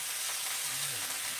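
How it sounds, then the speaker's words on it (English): Onions sizzle steadily in a cast iron pan over a flame, a dense, even hiss that runs close and unbroken, with a faint low scrape as they are stirred. "let me get my onions stirred up here"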